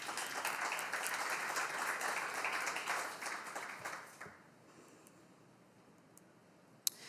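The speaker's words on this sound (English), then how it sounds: "I think you deserve a round of applause" Audience applause in a caregiving conference session room, a dense steady clapping from many people that carries for about four seconds, then falls away to a quiet room with one sharp knock near the end.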